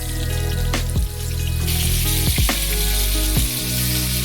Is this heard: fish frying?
yes